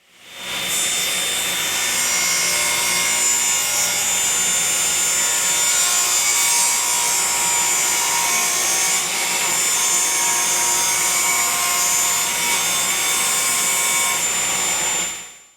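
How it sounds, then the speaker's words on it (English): Table saw ripping through timber as it is pushed gently through the blade, a loud, close, continuous high-pitched cutting whine with rasping texture that holds steady for about fifteen seconds before stopping, with no talk. "because you're pushing the timber through nice and gently"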